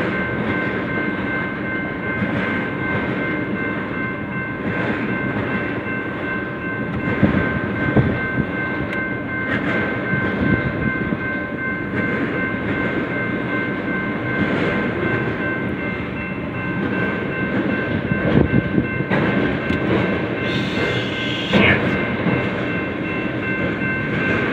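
A BNSF freight train of auto rack cars rolls past close by, a continuous loud rumble with rattling and clattering cars and high metallic squeal tones throughout, with no talking.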